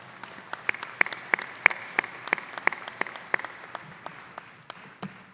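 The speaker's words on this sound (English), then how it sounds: "thanks and another round of applause for that round of guests" Scattered applause from an audience at a Fall 2019 college commencement ceremony, a few distinct claps in an uneven rhythm that thin out toward the end, fairly near and moderately quiet.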